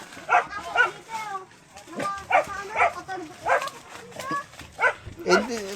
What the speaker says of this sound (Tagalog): Aso dito!